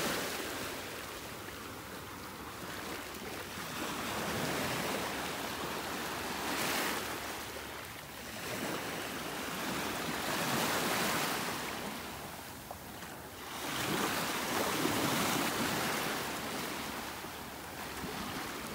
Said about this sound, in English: listening to the sounds of the waves.